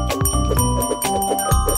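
A buzzer bell for a K-Pop quiz show segment rings out in bright, ringing chimes, several quick tones in a row with a sustained metallic tail.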